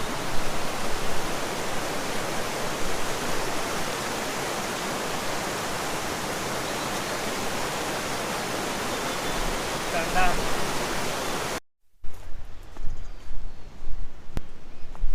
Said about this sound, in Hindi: छोटी सी नदी है जिसे हम पार कर रहे हैं